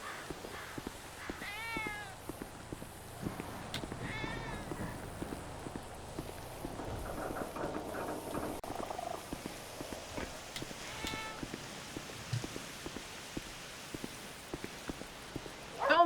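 Several cats meow repeatedly in thin, high calls scattered over a steady background of shuffling and soft noise, fairly close by, with no talk over them.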